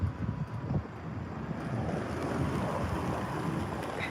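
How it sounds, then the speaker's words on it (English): Strong wind buffeting the microphone outdoors near Highway 4 at Boca Chica, Texas, a continuous low roaring rumble with heavier gusts at the start, loud and close, with no voices. "it's windier now than it was an hour ago"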